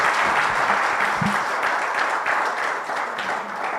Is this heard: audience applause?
yes